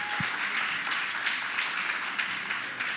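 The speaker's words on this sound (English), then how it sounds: "Please give a round of applause for Ada Irikefe." A conference audience applauds as a keynote speaker is introduced, a moderately distant, continuous patter of clapping hands lasting a few seconds without pause.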